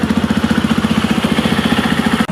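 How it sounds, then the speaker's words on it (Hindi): A Jawa 42 motorcycle engine idles close by, a steady rapid thumping pulse that stays even throughout with no talking. "तो आइडियल पे कुछ ऐसा साउंड आएगा।"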